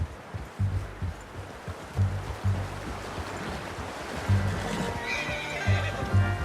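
A horse whinnies amid steady clip-clopping hooves in the video game Red Dead Redemption 2, with a wash of ambient noise in the background.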